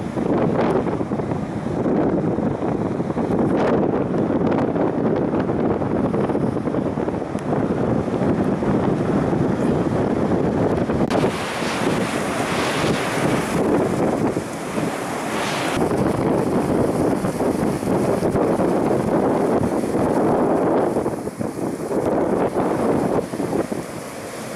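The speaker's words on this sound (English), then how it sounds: "Wind is so strong." Strong wind blows at Vale do Lobo beach in the Algarve, a loud, continuous roaring rush over the microphone, mixed with the wash of surf and rising in gusts, with no speech.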